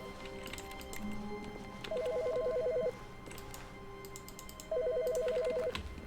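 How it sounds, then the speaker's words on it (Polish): A telephone rings in two electronic trilling bursts separated by a pause, in the video game The Stanley Parable, heard over quiet background ambience and faint scattered clicks. "Słyszę, telefon gdzieś dzwoni."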